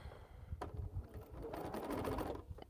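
Sewing machine stitching quilt seams, a low rapid motor hum and needle chatter that starts, pauses briefly, then runs steadily and fairly loud before slowing, close by with no talking.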